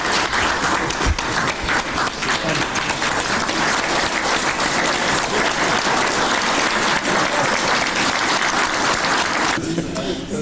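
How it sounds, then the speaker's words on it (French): Government members give a standing ovation in a formal chamber: loud, dense, continuous applause that stays steady for about ten seconds before easing slightly at the end. "Je demande donc à l'ensemble des membres du gouvernement ici présents de vous réserver un standing ovation"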